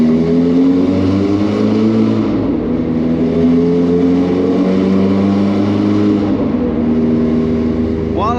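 A cold Ferrari engine idling and revving gently with its exhaust valves open, a loud, deep continuous drone with mild swells in pitch, heard up close with no talking.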